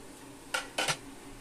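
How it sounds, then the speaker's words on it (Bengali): A ladle stirring cinnamon and cardamom sugar syrup in a pot, two quick metallic scrapes and clinks close by, quiet otherwise. "হাতা দিয়ে এভাবে একটু নেড়ে চেড়ে দেব"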